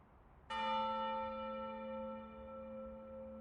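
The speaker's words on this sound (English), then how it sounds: "it looks like that bell has definitely got something to do with it" A church bell in the video game Puzzle World Inception strikes once, then rings out in a long, clear, slowly fading tone with no talking.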